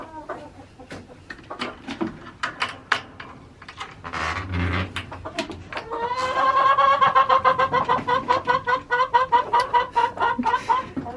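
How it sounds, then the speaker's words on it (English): Chickens cluck close by, starting with scattered calls and building to a dense run of rhythmic clucking and squawks, with no talking. "Let's go check on these other chickens."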